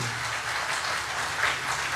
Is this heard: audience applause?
yes